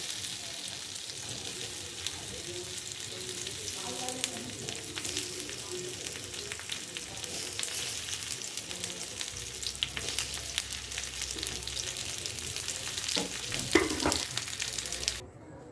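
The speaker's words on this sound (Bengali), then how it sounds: "দেখুন এগুলো সব হয়ে গেছে ভাজা, এইভাবে ভেজে উঠিয়ে রেখেছি।" Patra pieces fry in a pan with a steady, dense sizzle that holds close and fairly loud from start to finish, a few louder crackles near the end before it cuts off, no talking.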